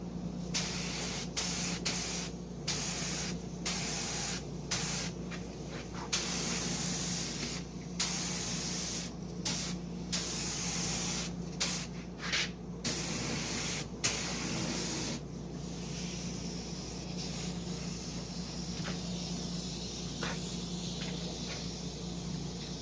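A spray gun lays primer onto a car body panel during bodywork prep on an old Cadillac, sounding as a loud hissing spray in repeated bursts with short pauses between passes and a steady low hum underneath.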